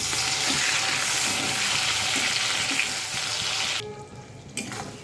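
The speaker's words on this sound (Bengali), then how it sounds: "এবারে তেলের মধ্যে দেব টমেটো কুচি" Chopped tomato hisses and crackles in hot oil in a pan, a steady loud sizzle that suddenly drops near the end, leaving a quieter simmer with a few soft clinks.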